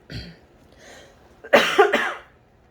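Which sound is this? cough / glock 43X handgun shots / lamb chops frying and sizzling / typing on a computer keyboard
cough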